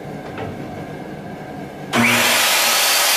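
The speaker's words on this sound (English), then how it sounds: "I'm going to make these cuts with the circular saw for the other pieces" A circular saw cuts through a cabinet panel: quiet workshop background at first, then the blade suddenly whines into a loud, sustained cut for over a second before stopping abruptly.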